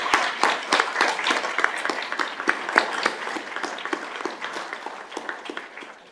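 Steady applause rises from the audience at a school district governing board meeting as students' families are honored, with sharp individual claps standing out at first before the ovation gradually thins.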